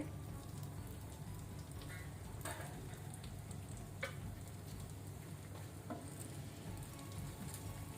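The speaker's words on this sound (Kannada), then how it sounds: "ಇಲ್ಲಿ ನಮ್ದು ಮೀನು ಫ್ರೈ ಆಗಿದೆ" King fish coated in rava fries in a covered pan over a medium flame, giving a soft, steady sizzle with a few faint crackles and pops throughout.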